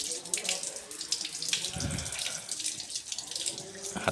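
Hands are washed under a running tap at a hotel sink, steady close splashing water with brief louder gushes as the hands move through the stream.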